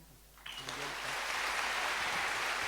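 An audience applauds author Anthony Passeron, the clapping swelling in after a brief pause and holding as a dense, sustained wash of hands, loud and close, with a faint voice at the very start.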